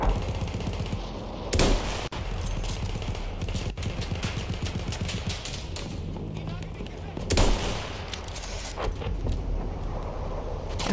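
Sniper rifle gunfire in the Battlefield video game: two sharp, loud shots stand out over a dense, continuous bed of battle noise and rattling effects.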